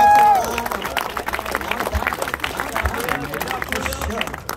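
A crowd at an outdoor rap battle during an art walk in Santa Ana, California, applauds and cheers with steady clapping and babble, and a voice talks over the noise.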